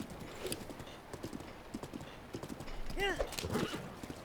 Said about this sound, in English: sometimes I just like to ride a horse on the road and see where I go